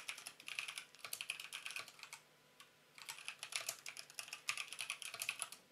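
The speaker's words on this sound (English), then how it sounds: "I want to type this." Fast, uneven typing on a computer keyboard, close and clear, in bursts of clicking keystrokes with a short pause near the middle.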